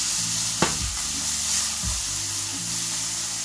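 Food fries and browns in a pan with a loud, steady sizzle, broken by a couple of quick stirring clatters against the pan.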